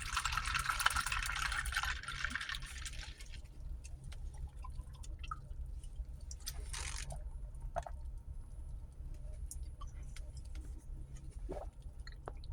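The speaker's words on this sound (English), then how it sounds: "I'm gonna go ahead and crack it open here and have some Monster Rehab wild berry." A can of Monster Rehab wild berry drink is cracked open, giving a close fizzing hiss of escaping carbonation for about three seconds. Faint drips and small clicks follow over a low background rumble.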